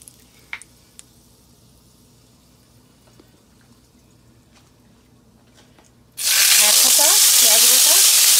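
Bay leaves drop into hot oil for egg curry, setting off a sudden loud, steady sizzle after a few quiet seconds of faint kitchen clinks, then crackling on close by.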